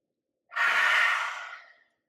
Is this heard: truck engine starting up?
no